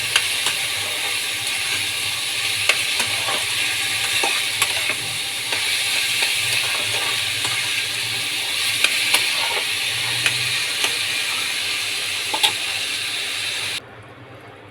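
Filling stir-fried in a pan in a home kitchen, a continuous hissing sizzle with scattered scraping clicks of the spatula, steady throughout before it cuts down near the end.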